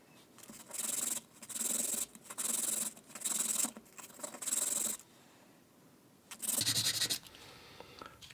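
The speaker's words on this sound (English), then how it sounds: "Try and sand the rust off of this." Sandpaper rubbed over a tiny rusty spring, five steady back-and-forth scratchy strokes close up, then a pause and one more rasping pass, with no talking.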